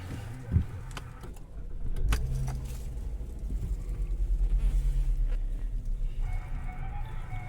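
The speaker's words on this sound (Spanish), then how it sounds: "Como podemos ver, encendemos el vehículo," A 2013 Volkswagen Jetta engine cranks and starts, settling into a low, steady idle rumble with a few light rattles and clicks early on.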